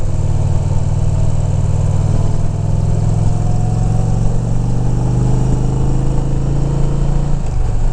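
Indian Challenger motorcycle engine running while riding, a loud steady low rumble with constant drone and wind, close and unbroken throughout.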